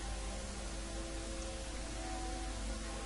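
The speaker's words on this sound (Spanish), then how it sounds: "Bien, sí, lloviendo, hay niebla." Steady rain in the video game Skyrim, a soft continuous hiss of falling drops that stays even and fairly quiet throughout, with no voices over it.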